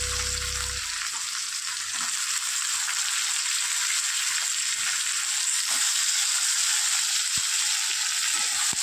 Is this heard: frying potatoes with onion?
yes